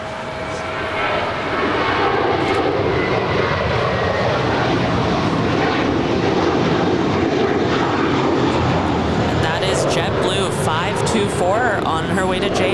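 An American Airlines Airbus A321 jet takes off at LAX, its engine roar swelling and then holding strong. A person talks over the roar throughout.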